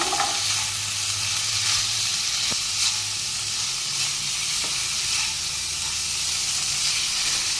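Potatoes already fried and a spice paste sizzle steadily in a pan while a Bengali chital fish curry is cooked, a continuous close hiss with a few sharp clicks and pops.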